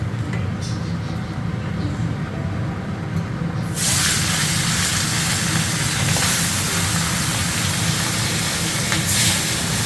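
Steam hissing from a pot of rice cooking, a steady broadband hiss that jumps suddenly louder partway through and stays strong, with someone talking over it.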